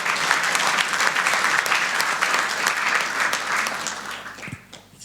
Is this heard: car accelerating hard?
no